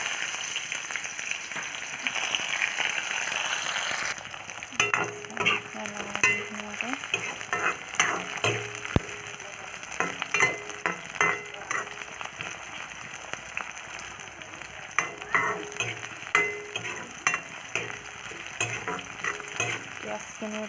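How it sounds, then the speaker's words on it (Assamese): Onions drop into hot oil in a home kitchen pan while cooking meat with little oil, starting a steady close sizzle with frequent scraping stirs and clinks of a spatula; no one speaks. "পিঁয়াজখিনি এতিয়া ধুনীয়াকৈ ভাজি ল'ম।"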